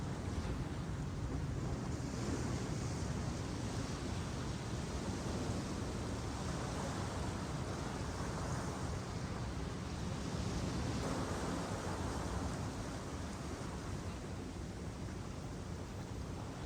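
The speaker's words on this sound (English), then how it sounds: "Alright, to the beach." Ocean waves wash onto a beach in a continuous, broad roar, with wind buffeting the microphone and no voices over the steady surf.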